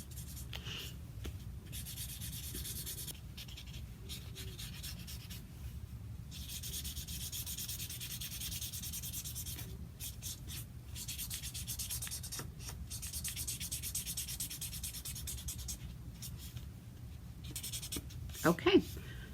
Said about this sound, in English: I happen to have a silver marker, so I'm going to use that.